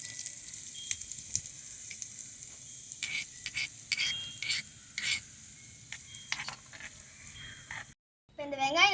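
Onions sizzling and being stirred in oil in a miniature pan, a steady close fry with scattered scraping clinks, ending in a brief silence and then a voice.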